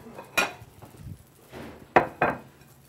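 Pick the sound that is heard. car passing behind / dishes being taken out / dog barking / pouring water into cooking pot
dishes being taken out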